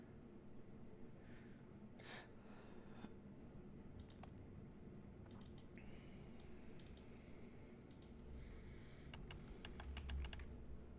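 Quiet typing on a computer keyboard while entering a password in the game Heaven Does Not Respond 2, with scattered irregular clicks and short bursts of keystrokes over a faint background hum.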